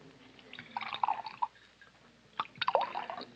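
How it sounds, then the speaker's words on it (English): A drink poured from a bottle into a glass in a 1942 radio drama, soft intermittent gurgles and splashes in two short bursts, fairly close and quiet. "Yeah, I'll pour yours, Doc."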